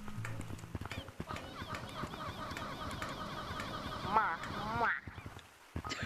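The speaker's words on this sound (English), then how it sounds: "It's a bird!" A bird calls out in a video game amid busy, layered game sounds, with honking, goose-like cries and clip-clop rhythms running for several seconds before the sound cuts off.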